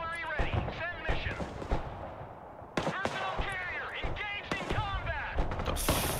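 Scattered gunshots crack in a Broken Arrow battle as snipers are engaged, sharp loud reports arriving irregularly under someone talking throughout.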